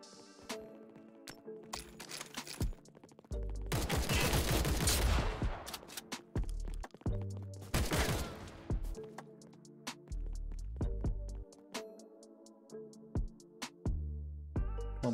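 Gunfire from a shotgun and other weapons in an online battle royale shooter, with dense bursts of rapid shots around the middle and sharp scattered blasts over game music and effects.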